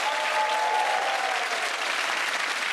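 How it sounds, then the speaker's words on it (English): A studio audience at a comedy panel show bursts into loud, sustained applause that stays dense and even throughout. "At the end of that round, applause to James,"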